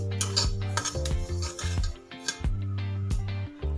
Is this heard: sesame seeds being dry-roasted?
yes